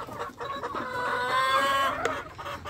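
Hens cluck nearby in a short, continuous burst of overlapping calls in a farmyard setting.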